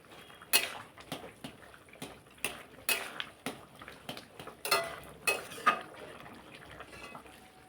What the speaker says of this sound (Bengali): এবার একটু খুন্তিটা দিয়ে একটুখানি ঘেটে দেব